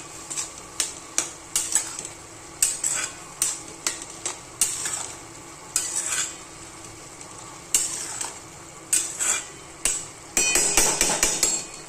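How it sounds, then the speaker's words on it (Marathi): Dry tiny prawns are tossed with crushed peanut and coconut in a pan, a spatula scraping and knocking in quick, regular strokes over a light dry sizzle, close and clear, with no voices. "आणि आता आहे ना हे असं मिक्स करून द्यायचं."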